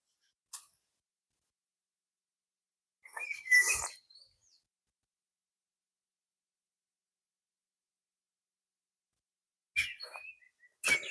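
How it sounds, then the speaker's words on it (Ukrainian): Occasional short bird chirps ring out in a quiet forest setting near Vita-Poshtova, Ukraine, with long silent gaps between the few calls. "Пташки співають, не зупиняються."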